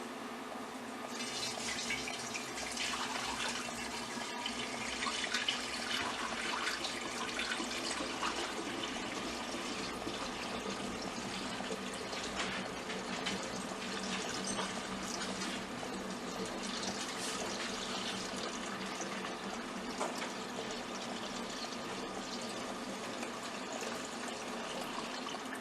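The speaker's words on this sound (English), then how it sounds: "now to pour it in there without spilling" Homemade blueberry wine pours steadily into jugs, a continuous close gushing and filling sound that stays even and unbroken throughout.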